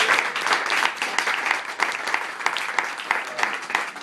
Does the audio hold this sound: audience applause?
yes